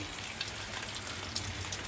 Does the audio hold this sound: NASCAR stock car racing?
no